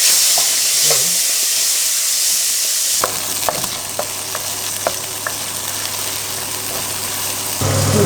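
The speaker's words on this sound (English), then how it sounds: "Now in a hot wok with an abundant amount of olive oil, I'm going to put the anchovies in there." Anchovies fry in a hot wok with plenty of olive oil, first a steady loud sizzle, then a busier crackle broken by sharp clicks and scrapes of stirring. No talk.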